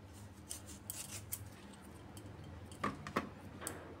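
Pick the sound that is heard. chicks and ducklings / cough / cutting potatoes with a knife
cutting potatoes with a knife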